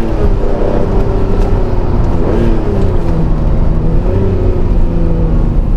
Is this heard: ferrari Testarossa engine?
yes